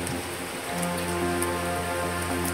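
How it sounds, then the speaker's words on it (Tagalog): Steady rain falls on a mountain trail near a hut at Mt. Mantalingahan in Palawan, a soft continuous hiss with scattered drops, faint and unbroken. "Talang umuulan guys, napakalamig."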